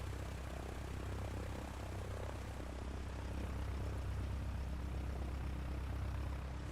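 A light aircraft takes off in Microsoft Flight Simulator 2020, its propeller engine droning as a dense, steady, even roar that holds at constant loudness throughout with no gaps.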